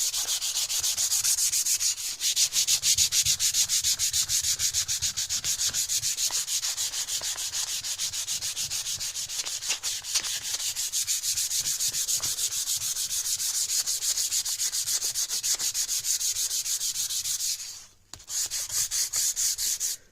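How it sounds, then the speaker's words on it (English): Steady rhythmic scraping of a rubber sanding block rubbed back and forth with the grain over an old wooden gunstock, close and continuous, with a brief pause near the end. "Start sanding with the grain."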